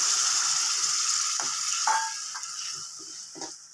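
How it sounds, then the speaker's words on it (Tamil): Tamarind water hits a hot pan with a steady sizzle that gradually softens, broken by a few light clinks and taps, while making sambar. "இந்த புளி தண்ணி ஊற்றிக்கிறேன்"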